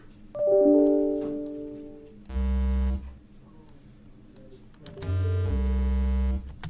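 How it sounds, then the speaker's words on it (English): Two low, buzzy synthesized square-wave tones, each a short descending pair of notes, separated by a pause after a brief higher melodic intro. "There's a good penalty sound."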